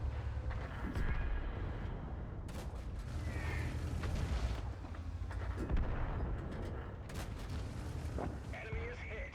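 Tank cannon fire in World of Tanks on the T92, with repeated booms and blasts over a constant rumbling battle background and game voice callouts, spread at irregular intervals.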